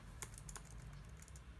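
Keys clatter on a computer keyboard in a quiet room, a quick run of light, irregular clicks with a few sharper taps standing out, alone with no talking.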